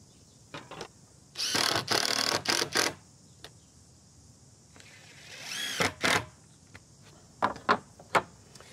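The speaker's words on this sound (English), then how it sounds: "just to drive those screws a couple of millimetres under the surface of the timber" A power driver sinks screws into timber fence palings while a wooden gate is built, sending a few short whirring bursts with brief pauses between them, close by and fairly loud, with faint clicks in the quiet stretches.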